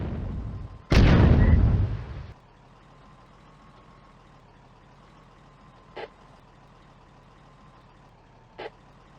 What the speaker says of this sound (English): Soviet spotting rounds fall and the German infantry hurry